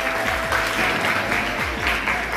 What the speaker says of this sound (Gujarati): તાળીઓ છે એને વધાવી લો